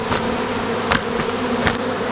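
A honeybee colony buzzes after being moved from a swarm trap into a hive, a dense, steady drone close by, with a few individual bees whizzing louder past the listener.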